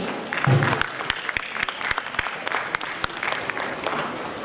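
An audience at a college stage play applauds, with steady close clapping, several sharp individual claps and a low crowd murmur throughout.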